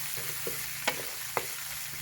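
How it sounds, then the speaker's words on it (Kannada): Curry leaves fry in hot oil in a pan during village-style poha upma cooking, a steady close sizzle broken by two sharp scraping clinks of a spoon stirring against the pan. "ಕರಿ ಲೀವ್ಸ್ ಹಾಕಿ ನೀಟಾಗಿ ಮಿಕ್ಸ್ ಮಾಡ್ತಾ ಇದ್ದೀನಿ."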